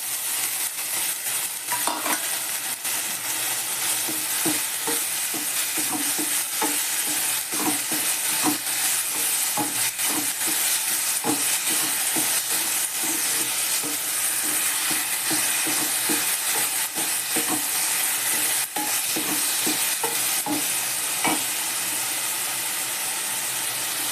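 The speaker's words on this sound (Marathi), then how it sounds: "आणि मग ही डाळ घालायची" Moong dal and onions are stirred in a hot oiled pan, a continuous sizzling hiss under steady, rhythmic scraping and knocking of a spatula against the metal, close and even throughout.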